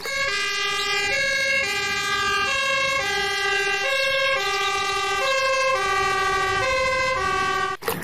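Loud, steady two-tone fire truck siren, rising and falling in a regular cycle, with the electronic sound of a toy.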